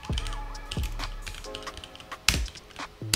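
Quick clicky keystrokes on a computer keyboard while a command is typed, mixed with faint tonal game or computer sounds in the background and a sharp tap or two standing out, close with no speech.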